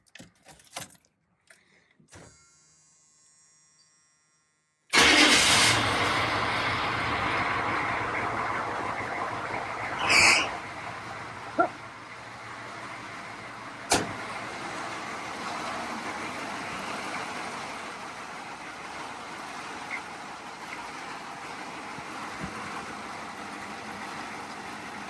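A 6.2 liter diesel in a Squarebody Blazer cranks, fires up and settles into a steady, rough idle, with faint clicks and rattles before the engine catches and occasional knocks over the running noise.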